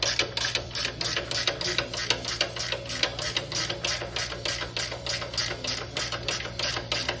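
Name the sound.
wrench loosening lock nut on commercial trap spring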